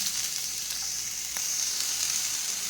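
Sliced onion frying in hot coconut oil in a pan for an egg curry, a steady, loud, close sizzle that hisses evenly throughout without any talking.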